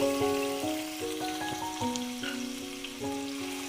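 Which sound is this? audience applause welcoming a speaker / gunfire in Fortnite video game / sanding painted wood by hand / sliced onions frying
sliced onions frying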